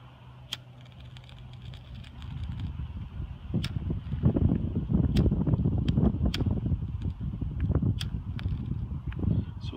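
Gusty outdoor wind buffets the microphone as someone tries to light an Uberfire fire starter, a steady low rumble that swells louder midway with scattered faint crackles and clicks.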